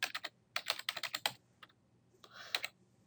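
Two quick bursts of keystrokes on a computer keyboard while CSS code is entered, close and crisp, then a brief pause and a softer final flurry of taps.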